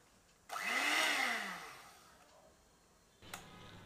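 An electric beater whirs through sugar and eggs for a strawberry cake, one steady loud run of about two seconds that fades out, then a short burst of handling noise.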